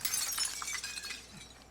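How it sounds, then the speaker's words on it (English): Glass shatters during a Call of Duty: Warzone match, a sharp, bright crash followed by tinkling shards that scatter and fade over about a second and a half, with no talking over it. "Who broke glass?"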